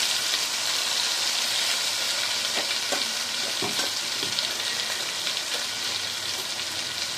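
Ground masala paste frying in hot oil for a chicken seekh kebab gravy, a steady close sizzle with stirring scrapes and occasional spatters, heard alone with no talking.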